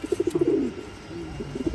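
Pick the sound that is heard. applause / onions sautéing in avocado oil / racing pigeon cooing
racing pigeon cooing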